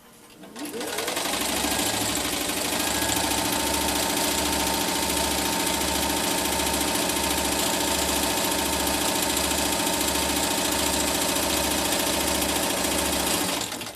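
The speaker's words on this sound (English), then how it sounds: "So let's go ahead and use that stitch and sew down the line." A Singer 1591 sewing machine runs a continuous stitch at steady speed, its motor humming with a fast, even mechanical chatter that stays loud and close from start to end, with no talking.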